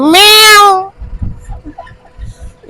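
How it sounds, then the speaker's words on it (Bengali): A cat on a road gives one loud, close, drawn-out meow, followed by quieter traffic and road noise. "এই যে আমাদের রাস্তার মাঝে চলে আসলো বিড়াল"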